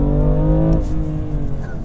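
A 2019 BMW M2 Competition engine drops a gear, the steady revving tone breaking off and falling into a lower, rougher note, heard close and fairly loud.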